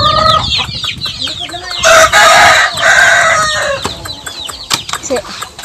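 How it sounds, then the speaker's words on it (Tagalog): Farmyard chickens and a rooster in the Philippines clucking and crowing, with a loud burst of crowing in the middle, while the flock gathers to be fed and a person calls to them nearby. "So guys, tatawagin natin yung mga manok."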